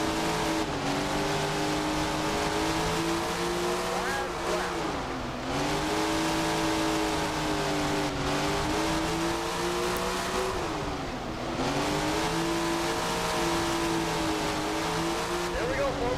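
Sprint car engines roar continuously in the Tony Stewart's Sprint Car Racing video game, a loud dense drone that rises and falls with repeated revving swells as the race starts, with commentary over it.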